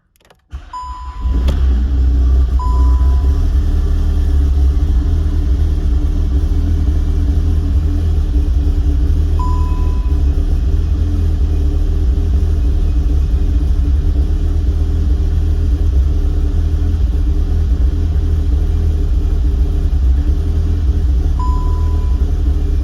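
A freshly built 750 bhp Cupra engine fires up for the first time, cranking briefly before catching and settling into a loud, steady, rumbling idle that runs on without pause, close to the microphone and with no voices.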